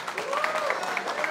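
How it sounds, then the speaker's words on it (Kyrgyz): Crowd clapping for the winning team after a Kyrgyz-Turkish friendship football match, a moderate, steady patter of hands with some voices mixed in. "Кана жеңүүчүлөр үчүн бир кол чаап коюлу."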